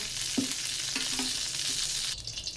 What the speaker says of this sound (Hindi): अब इसके अंदर हम कढ़ाई के अंदर डालेंगे देसी घी।